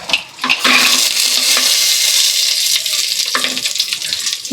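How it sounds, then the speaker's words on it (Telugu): Cashews frying in hot oil in a pan, a loud continuous hissing sizzle heard up close, with brief stir breaks near the start and end, alone without speech. "జీడిపప్పు బాగా కొంచెం దూరగా వేయించుకోవాలి."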